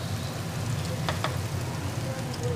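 Ridge gourd and tomatoes frying in a pan for a sabzi, a continuous close sizzle with a low bubbling bed and a couple of quick spatula taps partway through.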